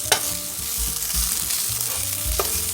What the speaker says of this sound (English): add in your minced garlic, and we're going to let that saute for 1 minute